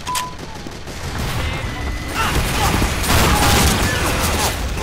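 The Soda Popper scattergun in Team Fortress 2 fires in loud, close blasts amid clattering game action and mechanical sounds.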